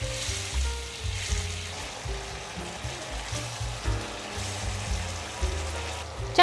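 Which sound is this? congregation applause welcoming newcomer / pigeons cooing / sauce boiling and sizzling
sauce boiling and sizzling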